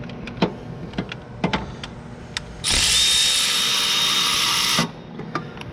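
A power tool with a swivel socket breaks loose a thermostat housing bolt on a Dodge/Chrysler/Jeep 3.6L engine, a loud two-second whir between scattered metallic clicks and clanks of handling.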